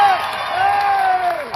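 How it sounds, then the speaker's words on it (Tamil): An audience at a village stage dance performance in Usilampatti Uthappanayakanur cheers and whoops, a sustained wash of crowd noise with a shrill, wavering tone riding on top. "ஒரு கைதட்டு"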